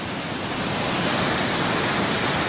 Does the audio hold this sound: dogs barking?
no